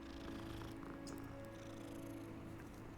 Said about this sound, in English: Guys, you can pet the cat.